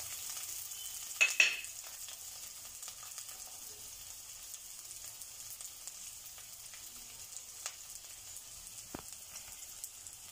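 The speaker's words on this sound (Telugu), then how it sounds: "ఆనియన్స్ కొద్దిగా బాగా వేయించుకుందాం." Onions, coriander and curry leaves fry in hot oil for spicy Andhra-style Gobi Manchuria, giving a steady close sizzle with a couple of louder crackles and pops early on and no talking.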